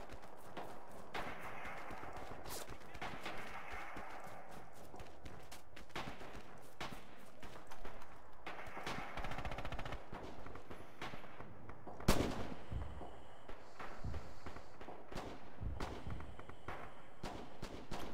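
Sustained battle din from the Red Orchestra 2 bridge-defense fight at Druzhina: dense, continuous rifle and machine-gun fire with distant artillery shells thudding in, one sharp loud crack near the middle, all dense and without pause.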